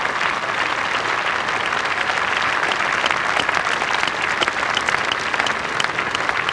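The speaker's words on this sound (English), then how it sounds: "Generous applause from the local crowd for Sharp's 50 off 65 balls" A local crowd at a 1986 Sunday League cricket match between Northants and Yorkshire applauds a batsman's half-century, with steady, dense clapping that holds at an even level throughout.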